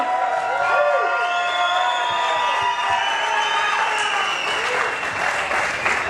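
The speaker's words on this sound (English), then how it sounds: "Give them a round of applause, huh?" Loud, steady applause mixed with cheers and whoops from a crowd welcoming a rock band at a Rocklahoma press conference, with shouted voices rising above the clapping throughout.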